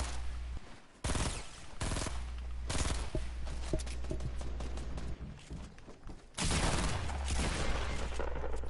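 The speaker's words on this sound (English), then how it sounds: "Are they shooting at you?" Bursts of gunfire in the video game Fortnite, rapid volleys and single shots loud and close, separated by brief lulls, with game ambience running throughout.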